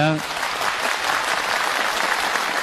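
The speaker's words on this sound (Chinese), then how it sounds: "下面我们就以掌声有请王柏英老师、高美玲老师" Audience applause at a Suzhou Pingtan gala fills the hall as two elderly performers are welcomed, a dense, sustained clapping that follows a brief voice at the start.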